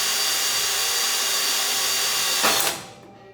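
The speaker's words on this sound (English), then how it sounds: "Those bolts just snapped off in there, so I'm gonna try to drill them out" A power drill whines loudly and continuously, grinding through metal as it drills out snapped bolts on a car, then spins down and stops near the end.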